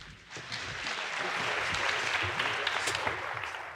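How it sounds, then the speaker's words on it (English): Conference audience at Brighton SEO clapping to welcome two speakers, a broad, fairly soft wash of many hands that builds briefly and holds steady, heard from a distance in a large room. "If we could have a big round of applause for Daniel and Joe"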